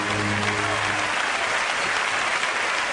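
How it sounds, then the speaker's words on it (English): A crowd at a David Copperfield magic show applauds steadily and loudly, with a brief low tone fading at the start. "Give Jonathan a big round of applause."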